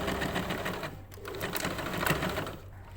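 A sewing machine stitching elastic shirring on fabric, a fast steady mechanical whir and needle clatter running throughout at close range, with a brief slowdown in the middle.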